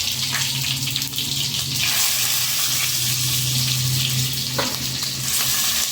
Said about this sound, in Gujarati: આ રીતના મરચાં તેલમાં મૂકી દેશું